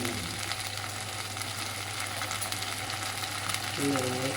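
Gobi manchurian fries in a pan with a continuous even sizzle, as the cauliflower pieces are stirred, loud and close, with soft scraping near the end.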